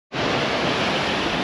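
Steady, loud ocean surf crashes and hisses against a breakwater at San Bartolo beach in Peru, a continuous close wash of broadband roar with no talking.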